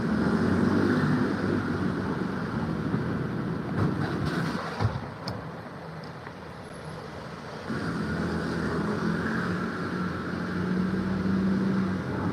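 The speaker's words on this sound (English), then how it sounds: "So it's a bit noisy here. This is another triggering thing with the traffic." Road traffic noise rolls by as a continuous broadband roar, steady and moderately distant, easing slightly midway before swelling again, with no voices.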